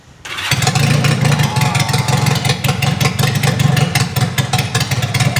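A Regal Raptor Daytona 350 motorcycle engine cranks and fires after a brief quiet moment, then runs loud and close with a rough, pulsing low rumble and small revs.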